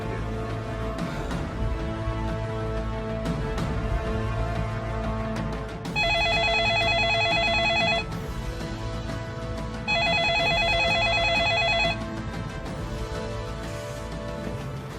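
Telephone ringing during a call, two loud electronic ring bursts of about two seconds each, separated by a pause, over steady background sound.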